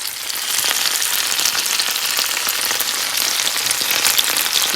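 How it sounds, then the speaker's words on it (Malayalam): Prawns fry in hot oil, a continuous dense, rain-like sizzle with fine crackling spatter, close and even in level throughout and unaccompanied by voices. "ചെമ്മീൻ നന്നായിട്ട് ഫ്രൈ ആയിട്ടുണ്ട്"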